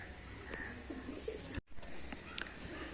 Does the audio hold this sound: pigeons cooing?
yes